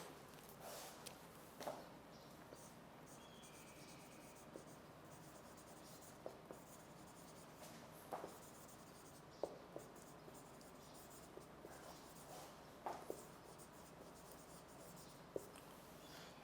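A pen scratches out words during an online English lecture for entry-test preparation, with soft, faint strokes and little taps recurring at an unhurried pace over a quiet room.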